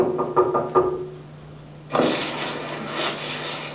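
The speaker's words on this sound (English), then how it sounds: "Oh, I knocked, sir" Knocking on a door as a radio drama sound effect, a few quick raps near the start followed by a rough scraping, rustling noise.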